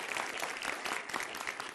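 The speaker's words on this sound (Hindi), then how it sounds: "तालियों के साथ उनका स्वागत कीजिए।" A television studio audience at a Hindi political debate show claps for arriving panelists, a faint, dense wash of applause with no voices.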